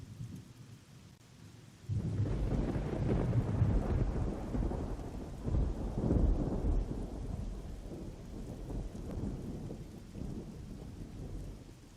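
Thunder from a scripted storm in the video game ARMA 3, a deep rolling rumble that swells suddenly and keeps grumbling amid a wash of rain, with no voices.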